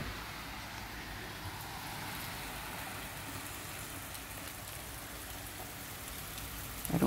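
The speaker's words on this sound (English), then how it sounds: "it's raining, and I thought the sound of the rain is so nice" Steady rain falls with a soft, even hiss that continues unbroken throughout, fairly quiet and with no voices.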